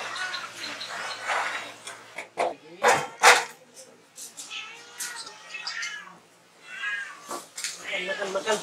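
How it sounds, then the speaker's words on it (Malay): Several resident cats meowing at morning feeding time as wet food is served, with overlapping meows and caterwauls, a brief dog-like sound, and a person talking nearby. "Setiap pagi, makanan basah akan dihidangkan kepada kucing-kucing yang menjadi penghuni di sini."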